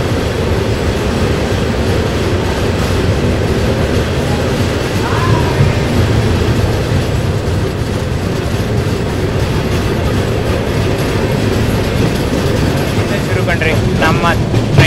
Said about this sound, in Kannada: ಸಿಗ್ನಲ್ ಕೊಟ್ಟಿದೆ ತಡ ನೋಡ್ರಿ. ಪ್ಲ್ಯಾಟ್ಫಾರ್ಮಲ್ಲೇ ಆಕ್ಸಿಲರೇಷನ್ ಶುರು.